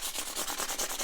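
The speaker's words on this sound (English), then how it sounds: "So here we go, 400 grit on the foam block." Close, steady rubbing of 400 grit micromesh on a foam block across a Fender HER signature Stratocaster guitar body, a series of rhythmic back-and-forth strokes about every fifth of a second with no talk.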